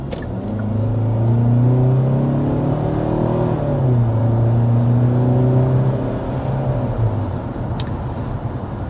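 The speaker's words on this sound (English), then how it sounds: "Now, as I accelerate there, you might notice one of the unique elements about the powertrain of this Sportage." A 2025 Kia Sportage with automatic transmission accelerates, its engine note climbing in pitch through several smooth rising sweeps, heard steadily from inside the cabin.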